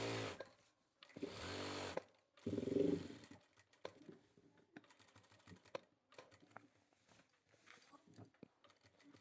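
A sewing machine stitches a shirt in three short, close motor runs with brief pauses between them, followed by scattered quiet clicks and taps.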